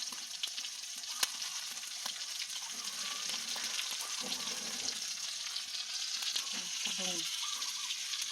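Cooking oil fries steadily in a pan in a rural provincial kitchen on a rainy day, a dense continuous sizzle and crackle with occasional stirring clatter while a voice speaks briefly underneath.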